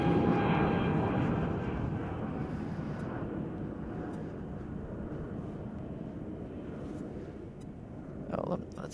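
American Airlines jet landing at Chicago O'Hare on a Saturday afternoon: a steady broadband engine roar that starts loudest and slowly eases, heard from a distance with brief voices and faint background noise near the end.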